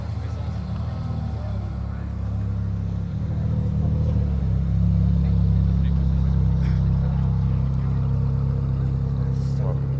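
A Ferrari F12 Speciale sports car rolls past on a Paris street with a loud, deep engine rumble that swells toward the end, beneath steady traffic noise and people talking nearby.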